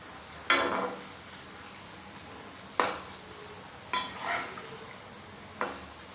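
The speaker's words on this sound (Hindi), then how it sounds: "इस तरह हम इन्हें चलाते रहेंगे जिससे ये सही से सीख जाएं।" Sweet puas made from jaggery and wheat flour are stirred as they fry in a pan: four separate scraping, sizzling bursts with quiet gaps between them and no talking.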